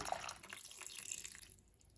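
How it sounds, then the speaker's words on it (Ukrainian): Water is poured into a pan of meatballs with purslane, a soft splashing trickle that runs close for about a second and a half before stopping. "Доливаємо водички, якщо не покрило все"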